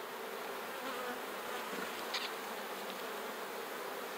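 Honeybees in an opened horizontal beehive give a steady, dense buzzing hum throughout, close and moderately quiet, with a few individual bees flying past near the listener.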